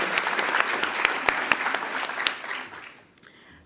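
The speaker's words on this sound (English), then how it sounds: "So I might just get one last round of applause just for everyone that participated in the challenge." A conference audience applauds in a dense, sustained round of clapping with a few sharper individual claps standing out, fading away toward the end.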